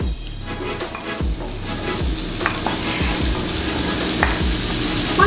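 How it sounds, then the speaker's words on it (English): Mushrooms sauteing in a hot pan, with a steady loud sizzle and frying crackle, and repeated scrapes and knocks of stirring throughout. "Are we ready for sauteed mushrooms?"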